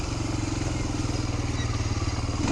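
A 1992 Honda Fourtrax 250X sports quad runs with a steady, close, pulsing engine chug, even throughout and with no talk over it.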